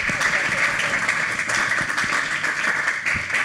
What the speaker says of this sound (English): I think it's time for an applause